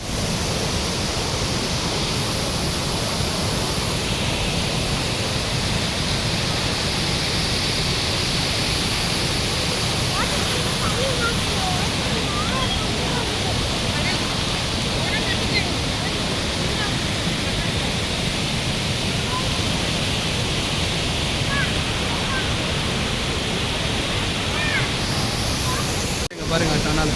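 A waterfall in Vagamon pours down beside water rushing out of a tunnel, making a steady, broad roar of falling and flowing water that holds constant throughout, close and loud.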